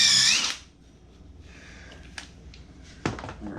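A metal marble holder jig part being deburred: a brief, loud, high whining tool burst at the start, then quiet with a few faint scraping touches and one sharper scrape near the end.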